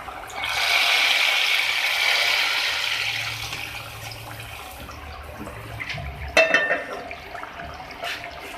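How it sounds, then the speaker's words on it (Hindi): Fried eggs dropping into hot oil for aloo anday salan give a broad hissing sizzle that is loud at first and slowly fades, followed by a few brief clatters near the end. "इसको ऑयल में इसमें डाला।"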